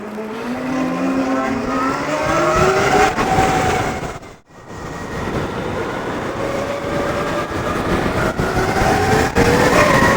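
A Zero FX/E electric 125 motorcycle riding up and down a road, a loud whine rising and falling in pitch as it accelerates and passes, with a brief dip near the middle.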